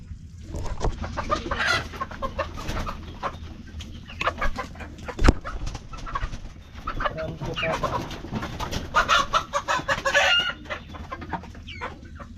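Chickens cluck and squawk in agitated bursts while being caught, close by, with scuffling movement and a sharp thump midway; no speech.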